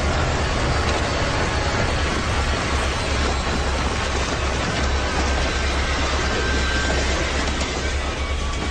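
A train passes close by at night, a loud, steady rumble with rolling clickety-clack of wheels on rails and a deep low drone that continues unbroken with no voices.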